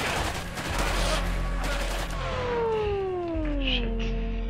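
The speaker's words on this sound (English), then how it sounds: "They're shooting at me." Bursts of gunfire in the World War II stealth game War Mongrels rattle out in the first couple of seconds, then give way to falling whistling tones and ambient game sound; no speech.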